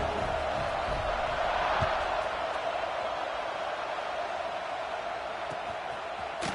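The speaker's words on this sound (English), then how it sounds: "this crowd now ready to get behind them" Stadium crowd cheering before a kickoff in the video game NCAA 26 on PS5, a constant loud roar that stays even throughout.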